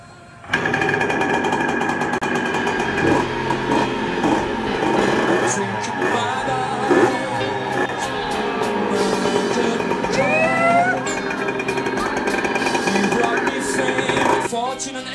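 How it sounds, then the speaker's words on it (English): A freshly rebuilt two-stroke engine fires up and keeps running with a steady, buzzy mechanical drone for many seconds, and voices come and go faintly over it. "firing up first ever rebuild with CJ on a two-stroke"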